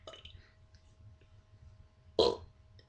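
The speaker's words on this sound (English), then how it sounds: "make a face like that and burp." A single short, loud burp near the end, preceded by quiet low rumbling and faint breathy sounds.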